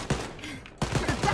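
Rapid bursts of gunfire from the video game Wolfenstein Youngblood, with a short volley, a brief lull, then a denser stretch of close, loud shots.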